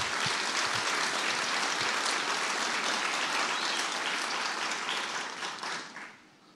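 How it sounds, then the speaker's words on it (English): Church congregation applauding in a dense, continuous wash of clapping that stays loud and steady before fading away in the last second, with no clear shouts standing out. "would you do it by a shout of praise and a clap of hand?"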